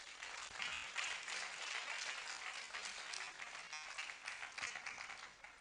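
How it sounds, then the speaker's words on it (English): Audience at a national delegate congress applauding, a dense steady wash of many hands clapping together at a distance, faint and continuous with no voices rising above it. "I think you should clap for yourselves."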